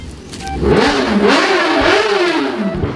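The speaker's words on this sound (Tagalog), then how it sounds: "naitingog na po ng motor" A motorcycle engine revs loudly and close by, its pitch rising and falling in repeated swells over a few seconds, with no talk.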